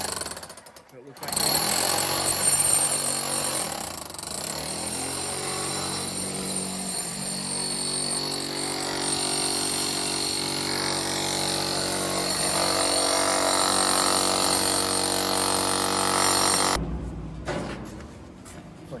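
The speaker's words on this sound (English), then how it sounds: "So they're drilling the holes" A power drill bores installation holes in a house wall during a window replacement in Washingtonville, NY, running loud and steady for most of the stretch with a harsh, grinding tone, while people talk nearby.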